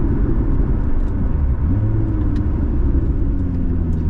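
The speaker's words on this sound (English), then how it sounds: "when I sort of flip the throttle like that, it just sounds a little bit" A loud Lotus Emira petrol sports car engine rumbles steadily up close, its pitch shifting midway as the throttle is blipped, with no voices.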